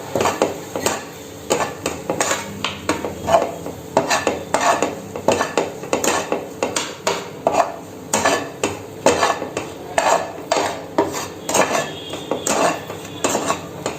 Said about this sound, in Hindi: अब मैं इसको अच्छे से मिक्स करूंगी।